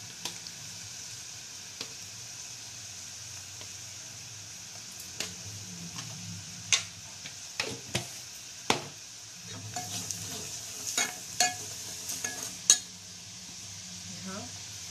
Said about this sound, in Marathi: आता ही चांगली फ्राय झाली.